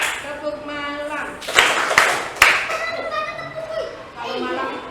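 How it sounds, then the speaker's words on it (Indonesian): A group of schoolchildren claps together in a few quick bursts while a teacher and the children talk and chant around them in Indonesian. "Sekarang kita akan tepuk-tepuk sebentar."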